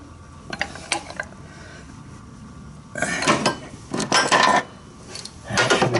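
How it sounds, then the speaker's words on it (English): A ratchet cranks an engine tensioner bolt tight during a cylinder head refit, quick bursts of metallic clicking in short strokes, close and loud, separated by brief pauses. "Here's our bolt for the tensioner. We'll do him up nice and firm."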